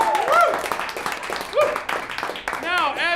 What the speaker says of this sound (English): God, you guys clap for literally anything.